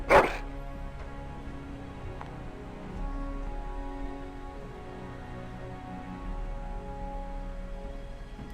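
A Mabari war hound in the fantasy game Dragon Age: Origins gives a sharp bark at the very start, followed by quieter game ambience with a low steady hum and faint background tones.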